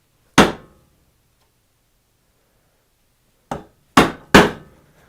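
A mallet strikes a chisel chopping a mortise in wood for a Shaker table: one sharp blow, a pause, then three more in quick succession, crisp and close in a quiet room.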